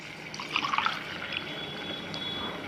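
Water poured from a glass into a cooking pot while making pongal, a short gurgling splash that swells briefly and then settles into a faint, steady trickle.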